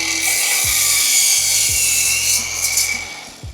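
A DeWALT battery-powered saw cuts through lumber with a steady, loud whine and scraping rasp that holds throughout, while the battery is running low and the saw is underpowered.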